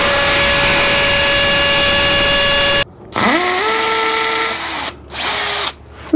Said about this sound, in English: Hammer, right? Hammer drill.